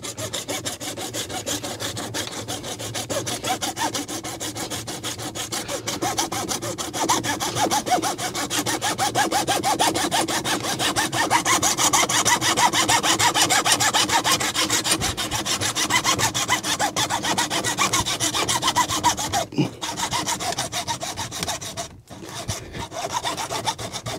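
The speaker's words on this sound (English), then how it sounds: "we're gonna go ahead and cut this PVC out the way" A hand saw cuts through PVC pipe during AC cooling system plumbing work, making a steady, rapid back-and-forth rasping that runs close and loud for over twenty seconds, with a short pause near the end.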